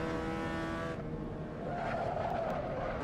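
A race car in the Assetto Corsa racing game skids and crashes, its engine drone running under a long tire squeal that shifts partway through as the car slides, loud and continuous.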